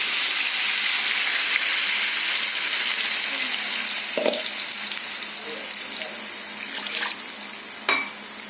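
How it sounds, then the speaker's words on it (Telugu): Tomato puree for an egg masala curry hits hot oil in a pan and fries with a loud, continuous sizzle, broken by a few stirring scrapes and clinks of a utensil. "ఆయిల్ వేడయ్యాక మనం ముందుగా తయారు చేసుకున్న ప్యూరీ వేసుకుందామండి"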